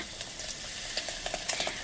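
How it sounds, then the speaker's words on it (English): Onions sizzle gently in oil and butter in a frying pan over medium heat, a soft, steady crackle with small spitting pops and no voices. "we heat the oil and butter in a frying pan over a medium heat and add the onions"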